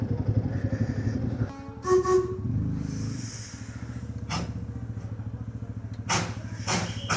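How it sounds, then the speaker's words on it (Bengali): A steam locomotive passes on a Himalayan hill route, with a deep, heavy rumbling drone and several sharp hissing bursts of steam rising over it, loud and near throughout. "এই যে স্টিম ইঞ্জিনটা যাচ্ছে"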